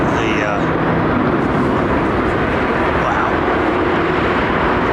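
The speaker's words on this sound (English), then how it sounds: "That's a 380 going out, isn't it?" An Airbus A380 departing Heathrow, a steady broadband roar of jet engines that fills the scene at constant loudness, with faint voices talking underneath.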